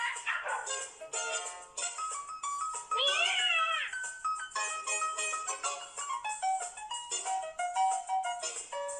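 Cartoon cat meowing repeatedly from a 1984 Soviet animated film, with several drawn-out, wavering meows rising and falling over a musical background, loud and close, no talking.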